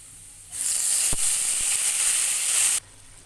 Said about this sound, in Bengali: এবার আমি সবজিটা দিয়ে দেব।